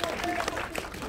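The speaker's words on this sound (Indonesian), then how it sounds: "Tepuk tangan untuk Dodit Mulyanto" Brief scattered clapping from a press conference crowd for a film cast, moderately faint and mixed with voices and cheering.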